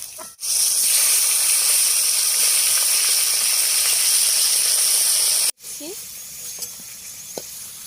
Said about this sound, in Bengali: লাস্টে এবার ঢেঁড়সটা ভেজে নিচ্ছি